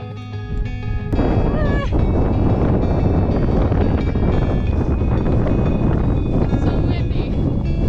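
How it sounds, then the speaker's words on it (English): Strong wind on the Isle of Man buffets the microphone in a constant, loud low rumble, with a sharp knock near the start and indistinct voices underneath. "So windy."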